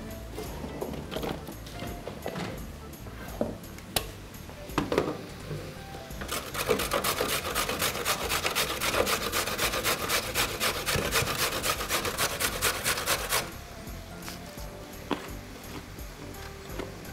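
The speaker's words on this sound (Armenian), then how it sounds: "գազարը քերում ենք։" A carrot is grated with steady, rhythmic scraping strokes against a grater for several seconds, preceded and followed by scattered taps and handling noises in a home kitchen.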